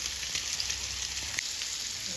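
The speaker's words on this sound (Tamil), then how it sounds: "இப்போ மீன் நல்லா ஃப்ரை ஆயிடுச்சு" Fish fries in a pan of hot oil, a steady, close, crackling sizzle that continues without a break.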